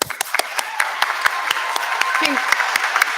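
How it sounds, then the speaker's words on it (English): A crowd applauds steadily at a nursing graduation pinning ceremony, with individual claps standing out in a rhythmic pattern, fairly loud and continuous throughout. "I would like to give a huge applause and congratulate the graduating class of 2021."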